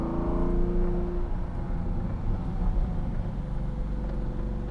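A Lamborghini Diablo VT engine runs steadily close by, a low, dense rumble with a brief higher whine near the start and no voices over it.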